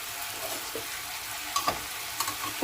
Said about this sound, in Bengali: এই সব কিছু আমি ভাজা ভাজা করে নেব 5 মিনিট।